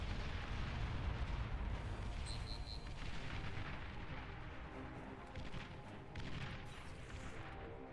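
Bombing in the real-time strategy game Beyond All Reason brings a steady, loud roar of overlapping explosions and booming impacts, with faint electronic beeps briefly above the din.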